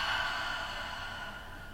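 Slow, steady ujjayi breathing during a yoga flow, a soft continuous airy rush through the throat, close and even, with no speech.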